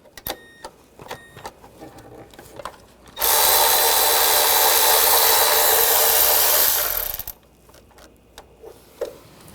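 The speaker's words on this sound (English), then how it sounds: "Now we're going to take the bolts out of this cover, use the same 10mm socket." A power ratchet or drill spins a 10mm socket to back bolts out of a timing cover on a Honda Pilot V6, one loud continuous whirring run lasting several seconds, bracketed by light clicks and tool handling.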